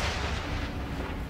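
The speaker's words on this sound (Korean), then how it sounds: "번쩍번쩍 번개가 치고 우르르 쾅쾅 천둥 소리가 났어요" Deep thunder rumbles and crashes in a dense, continuous roll, loud and heavy throughout the short stretch with no voices over it.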